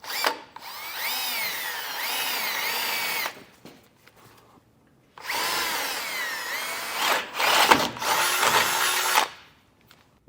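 A power drill bores a hole in a vehicle base plate, two loud whining bursts of several seconds each with pitch rising and falling as the motor loads, separated by a short pause.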